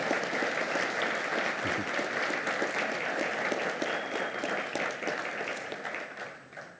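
An audience at a college address applauds the medical assistant program staff with a moderate, steady clapping that trails off gradually toward the end.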